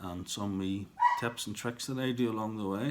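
A pet dog barks and yips in the background, with short whimpering sounds in between, while someone talks over it.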